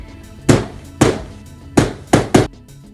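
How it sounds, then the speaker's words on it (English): Five sharp hammer strikes on a carpet nail being driven into a ballet pointe shoe, close and loud, in an uneven rhythm with brief quiet gaps between blows. "you just place the nail like so. You take a hammer."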